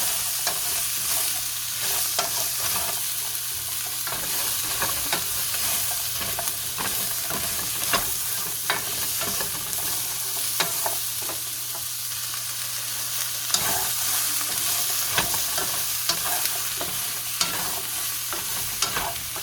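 Onions stirred and dry-fried in a pan with no oil, a steady soft sizzle running throughout with frequent scraping clicks of the utensil against the pan.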